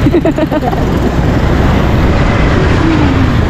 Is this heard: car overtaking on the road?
yes